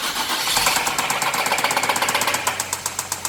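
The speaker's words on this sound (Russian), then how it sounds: "Двигатель немножко стучит." Nissan Cefiro engine cranks and fires up, then runs with a fast, steady metallic knock ticking through the idle, loud and close with no talk over it.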